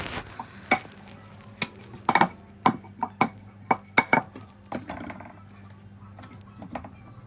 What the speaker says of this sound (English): I'm putting my pan aside because I just don't want it to burn too much